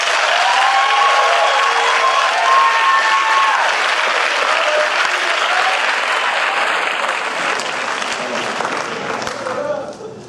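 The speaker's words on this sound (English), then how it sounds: "let's take a quick moment to give a real round of applause for the family members" Graduation ceremony audience applauding family members, a broad, sustained wash of clapping from a large crowd that holds steady for about ten seconds before tapering off at the end.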